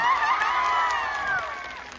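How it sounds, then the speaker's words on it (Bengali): Audience applause with scattered cheering fills a hall at a gathering in Cumilla, a steady wash of clapping that tapers slightly toward the end. "আমরা এখন জোরে একটা হাততালি দিতেই পারি"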